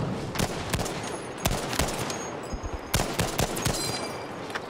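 Rapid M1 Garand rifle fire in the video game Battlefield V, with sharp close shots in irregular bursts over steady battlefield din and more distant gunfire.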